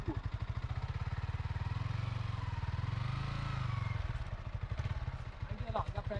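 A motorcycle engine idling after starting, a fast steady chugging putter close by that briefly smooths out before resuming its rhythmic thump, with people talking nearby.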